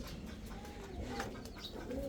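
A Giasulli Chuithal female high-flyer pigeon coos softly in a loft, a few low murmuring calls over faint background noise.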